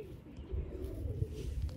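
A young pigeon just caught in a net coos softly in low, murmuring pulses, close and fairly quiet over a dull background.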